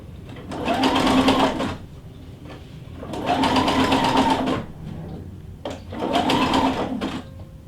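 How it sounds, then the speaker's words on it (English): Sewing machine stitching back and forth over elastic in a drawstring waistband, three close, steady whirring runs separated by short pauses. "lower the presser foot, and I'm going to stitch over this section again"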